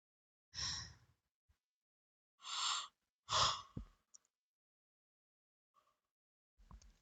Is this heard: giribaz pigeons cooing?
no